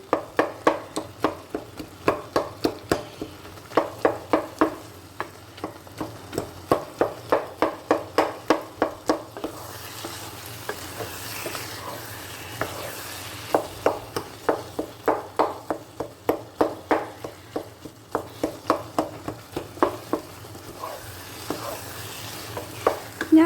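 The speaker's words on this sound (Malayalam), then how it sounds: "ഈ കൊള്ളിക്കിഴങ്ങ് കുറച്ചൊന്ന് ഉടച്ച് കൊടുക്കാം" Tapioca (kappa) cooked with beef offal is mashed in a pan, giving bursts of quick, rhythmic utensil strikes and scraping with light sizzling between them, close and fairly quiet, with no speech.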